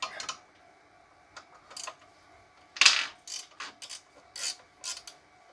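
A Crescent pass-through 3/8 socket-set ratchet undoing a bolt, giving short bursts of close, crisp clicking separated by brief pauses, with no talk over it.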